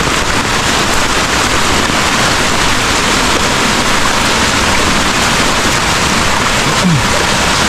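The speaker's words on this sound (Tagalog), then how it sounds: "Malakas na yung agos." Strong current of floodwater rushing past flooded homes in rain, with a steady, loud, broadband roar that continues unbroken throughout.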